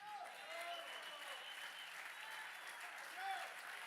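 A church congregation at a Spanish-language service claps in a continuous, fairly faint wash of applause while a voice carries on over it.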